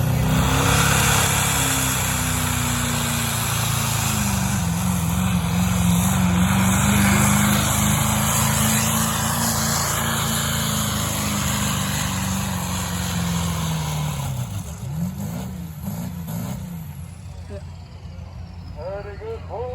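Truck or tractor roaring down the track at a county truck and tractor pull in Virginia, a loud sustained engine snarl with shifting pitch that winds down near the end, while an announcer talks over it.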